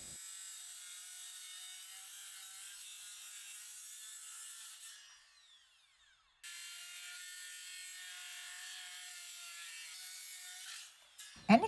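A handsaw cuts through a wooden lumber post in steady back-and-forth strokes, close and moderately loud, pausing briefly midway before resuming, with a short clatter at the end.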